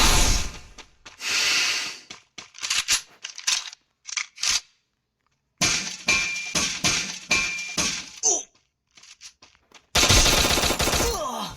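Gunfire in the battle royale video game Free Fire, with loud, close automatic bursts and single shots separated by brief silences, ending in a long sustained volley.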